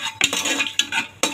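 A spoon scrapes through rice with coconut milk, tomato, onion, cinnamon and cloves in a cooking pot, giving three loud, close stirring strokes with short gaps between them and no voices.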